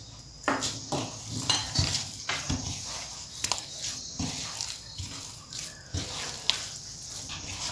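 Sweet potato dough kneaded by hand in a bowl with milk powder and homemade ghee: a rhythmic run of soft squelches and knocks against the vessel, close and moderately loud.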